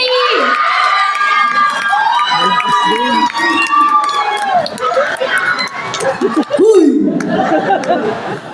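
Large crowd of event participants at a 90th-birthday celebration cheering, shouting and clapping loudly and continuously, with excited voices rising over the din and a voice breaking through near the end.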